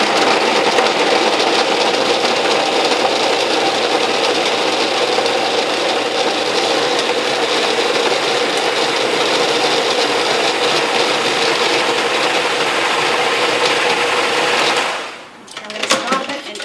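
A food processor whirs loudly and steadily as it chops apples for oatmeal, a continuous dense grinding drone for about fifteen seconds that then stops abruptly with a few rattles.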